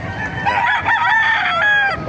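Kanawayon gamefowl rooster in Calumpit, Bulacan gives one loud, close crow that stretches across about two seconds, drawn out and warbling, with faint farmyard noise underneath.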